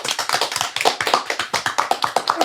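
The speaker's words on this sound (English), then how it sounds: "Let's clap it up." A small group claps to welcome a guest onto a podcast, making quick, close, sharp handclaps in a lively, slightly uneven rhythm with no talking.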